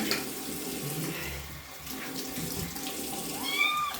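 Tap water runs steadily into a sink while a cat is being washed, a continuous splashing stream with brief shifts in flow, and no voices.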